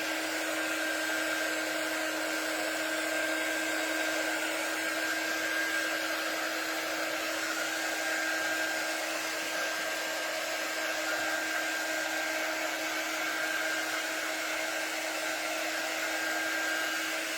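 A hair dryer blowing over painted craft paint on a door hanger, a loud steady whooshing hum with a constant whine that runs unbroken throughout.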